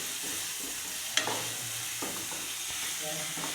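Finely chopped tomato frying in a pan for dal tadka, a steady soft hiss with a sharp spoon knock and a few stirring scrapes, close and moderate, no talk.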